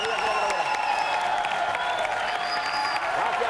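Studio audience applause on a Spanish TV news-satire show, a dense, steady wash of clapping lasting a few seconds, with a voice faintly present beneath it.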